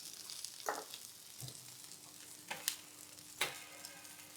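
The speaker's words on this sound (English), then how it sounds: "I have some clarified butter here. And I'm gonna lay down and let it melt" Clarified butter sizzles quietly in a hot pan for a steak sandwich, giving a soft steady hiss with a few brief louder crackles and pops scattered through.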